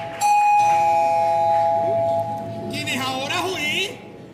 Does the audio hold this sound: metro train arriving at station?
no